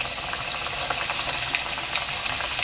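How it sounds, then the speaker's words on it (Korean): Pieces of boneless chicken coated in flour and starch crackle and bubble steadily in hot frying oil for Korean dakgangjeong, a soft, continuous sizzle with scattered pops and no talking. "많이 바글바글 거리면 불을 좀 낮춰주시고요, 또 적게 바글바글 거리면은 조금 기다렸다가 넣으시면 돼요"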